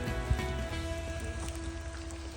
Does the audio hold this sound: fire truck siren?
no